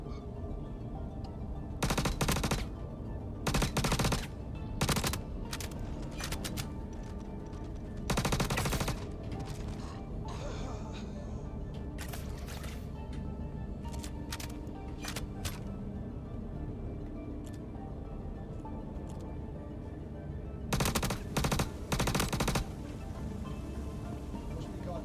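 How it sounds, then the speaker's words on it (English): Bursts of automatic gunfire in Star Citizen, fired in several separate clusters over a steady ambient hum, loud and close, with hit marker ticks mixed into the firing. "the hit marker sounds are throwing me off"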